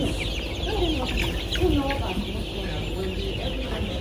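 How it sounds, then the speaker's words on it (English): Chickens clucking steadily in a crowded poultry house on a farm in Ghana, a dense continuous flock chatter close by with occasional louder calls. "So how many chickens are here?"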